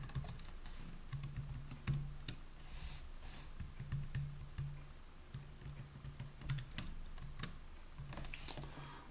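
Someone types a name on a computer keyboard, producing quiet, close, irregular key clicks with a couple of sharper taps, and no voices.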